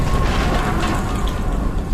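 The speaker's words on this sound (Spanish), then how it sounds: "un golpe seco sacudió el casco del barco, seguido de una violenta explosión" A ship hull takes an impact, followed by a violent explosion, heard as a continuous loud, heavy rumbling roar with deep low-end boom throughout.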